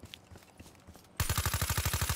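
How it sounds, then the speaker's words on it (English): Rapid automatic gunfire in Call of Duty: Black Ops III bursts in suddenly after a second of faint ambience, a loud, evenly spaced string of close shots running to the end. "I knew I heard shooting"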